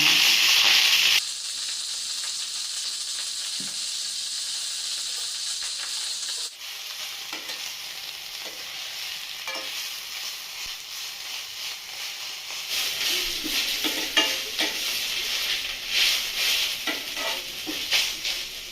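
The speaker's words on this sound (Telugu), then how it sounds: "మునగాకు వేగింది మనకి" Drumstick leaves sizzle and hiss in a hot pan, a steady frying crackle that shifts in tone partway through as they are stirred.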